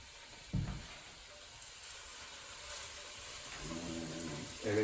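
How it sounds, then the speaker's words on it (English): Beef searing in a stew pot, a soft continuous sizzle that swells as pieces are laid in one by one, with faint clinks and no voices. "start taking the beef, putting it in an orderly fashion in the pot, never touching each other"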